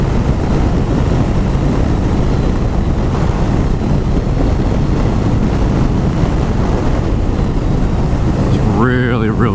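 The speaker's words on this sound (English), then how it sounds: "Really freaking windy." Strong outdoor wind buffets the microphone with a loud, continuous low roar for the whole stretch, and a brief voice comes in near the end.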